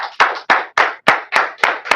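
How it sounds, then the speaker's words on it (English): Steady, evenly spaced hand claps close to the microphone, about seven sharp strikes in two seconds, as an audience applauds a presenter named John after his talk. "Everybody, please give a big round of applause to John for his presentation"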